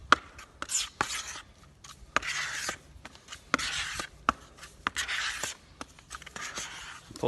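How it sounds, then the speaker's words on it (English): Body filler paste being stirred and mixed with hardener by hand for a DIY car bumper repair, giving repeated close scraping and rubbing strokes in irregular bursts with short pauses between them. "It's important to mix it thoroughly so it's all a consistent colour"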